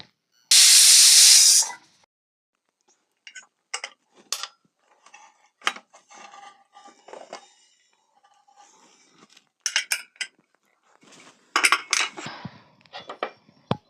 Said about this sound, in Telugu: కుక్కర్ మూత పెట్టుకొని 3 లేదా 4 విజిల్స్ వచ్చే వరకు ఉడికించుకోవాలి.